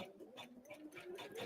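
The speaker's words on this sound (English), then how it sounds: "I'm going to go ahead and put the presser foot down, and we're going to stitch out one more" An embroidery machine stitching out a Christmas card design, its quiet rapid mechanical chatter pulsing in a quick, even rhythm of needle strokes, close and soft.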